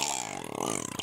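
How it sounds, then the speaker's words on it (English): A lake trout pulled up through the ice releases air from its swim bladder in a quick, bubbly, burp-like gurgle that warbles for about a second, close and moderately loud. "that's them gassing their air out of their swim bladder. Lake trout are the one fish that have the ability to burp."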